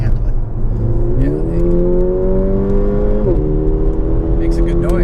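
A 2018 Mercedes-AMG CLA45 engine revs up with a rising whine that steps through gears, loud and close inside the cabin under ongoing talk.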